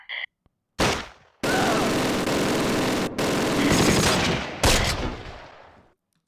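Heavy gunfire in the WW2 strategy game Close Combat: Panthers in the Fog, with loud sustained machine-gun bursts and volleys filling several seconds, broken by brief gaps, and a short voice line at the start.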